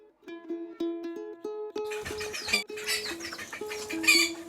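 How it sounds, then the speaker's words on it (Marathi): A free-range desi hen clucks repeatedly near eggs in a nest, steady close-up clucks that grow busier and mix with rustling and other farmyard bird sounds. "हा हे कोंबडे बघा"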